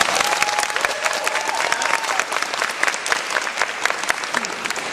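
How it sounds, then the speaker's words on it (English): Crowd at a basketball camp breaks into loud, sustained applause, dense clapping filling the room with a faint voice or whistle underneath. "Give yourself a round of applause."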